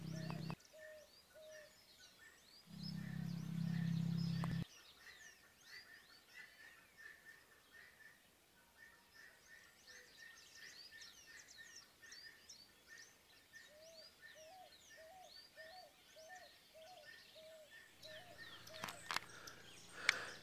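A wild bird in the dry caatinga scrubland repeats short chirping song phrases at a distance, faint and intermittent over quiet background with insect-like buzzing and a brief low rumble.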